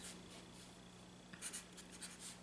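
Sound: writing notes by hand

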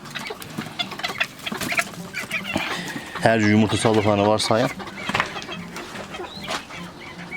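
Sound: chickens clucking

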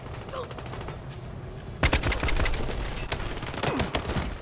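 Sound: gunshots in a video game

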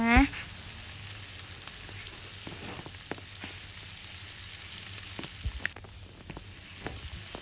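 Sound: frying pad thai in Roblox video game

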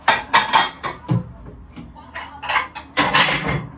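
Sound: dishes being put away

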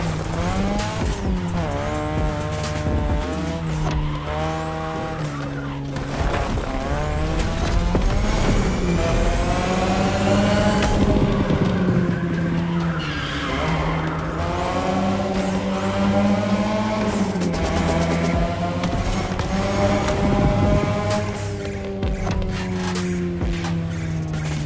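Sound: car driving at high speed in video game The Crew Motorfest

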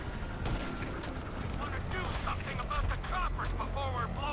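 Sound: gunfire in GTA V video game

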